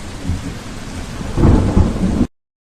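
Thunderstorm with steady heavy rain, a low rolling rumble of thunder swelling louder about halfway through over the constant wash of rainfall, no voices.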